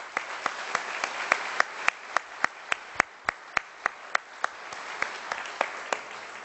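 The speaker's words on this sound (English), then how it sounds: "let's congratulate him with a round of applause" Evenly paced single claps ring out in a steady rhythm at an awards ceremony, sparse and fairly quiet, like only a few hands clapping.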